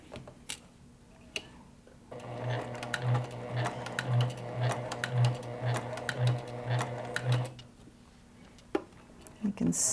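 A hand-cranked sewing machine stitches through fabric, its regular mechanical ticking pulses running close and steady for about five seconds before stopping, with light handling noise around it.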